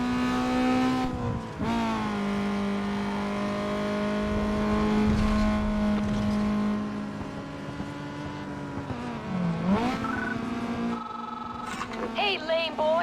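Racing car engines from the video game Need for Speed Underground 2 on PlayStation 2, a loud sustained whine that rises and falls in pitch, with a brief dip near the end and voices talking over it.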